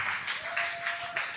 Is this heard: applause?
yes